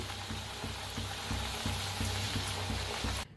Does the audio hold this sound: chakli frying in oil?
yes